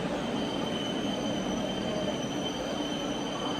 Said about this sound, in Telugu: ప్లాట్ఫామ్ నెంబర్ వన్కి ఒక ట్రైన్ వచ్చింది